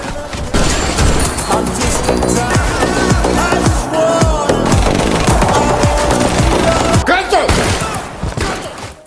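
Rifle gunfire in an action film, dense bursts of shots and impacts running continuously under a loud, busy film soundtrack with layered effects.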